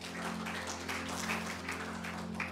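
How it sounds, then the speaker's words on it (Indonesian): A church congregation claps in praise, a faint, steady patter of many hands spread across the room over a low background hum, with no talk on top. "Berikan tepuk tangan buat Tuhan."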